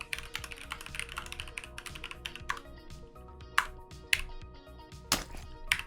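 Wireless mechanical keyboard being typed on: a fast, steady run of crisp clacking keystrokes, close and clear, with a few louder, sharper presses near the end and no voices.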